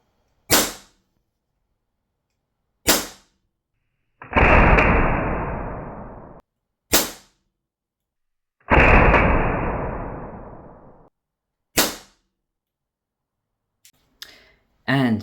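An ASG airsoft gun fires sharp single snapping shots on an FPS test, with two longer bursts of hissing, rushing noise between them. The shots are close and loud, with silence between each one.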